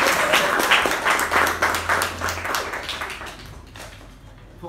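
A room of club members at a Toastmasters meeting give a big round of applause for a Toastmaster, loud close clapping with distinct individual claps that thins and fades over the last second.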